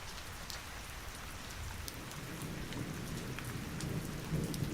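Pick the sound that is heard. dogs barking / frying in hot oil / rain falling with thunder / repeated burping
rain falling with thunder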